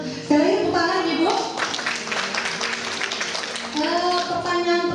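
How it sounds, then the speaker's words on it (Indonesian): An audience claps at a church women's gathering, a burst of mixed clapping swelling in the middle between stretches of a host speaking over a sustained tone. "Sekali lagi tepuk tangan Ibu."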